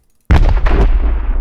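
A distant tank boom from the Project Reality video game: a single loud, heavy low blast that hits suddenly after a moment of silence and then rolls on as a long rumbling decay.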